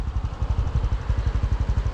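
A 2020 Honda CT-125 fuel-injected scooter engine runs at idle close by, a steady rhythmic low putter of quick regular pulses with no talking.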